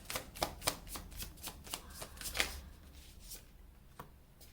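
Tarot cards shuffled and laid down in a run of crisp, quick snaps and flicks, close and fairly loud, thinning out toward the end with no talking.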